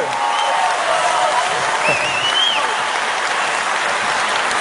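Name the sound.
audience applauding the Corsica team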